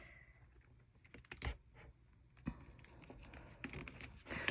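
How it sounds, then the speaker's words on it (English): X-Acto knife cutting into paper journal pages, heard as faint, close, irregular scratchy slices and soft crinkles with a few sharper clicks over quiet room tone. "Sometimes I go into it with the X-Acto knife."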